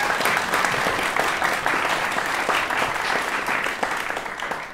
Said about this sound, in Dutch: En graag alvast een applaus voor Anneke van Giersbergen.